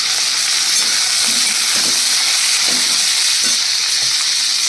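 Potatoes fry in a pan, a loud, dense, continuous hiss that stays steady throughout, with a few faint low knocks underneath and no talking.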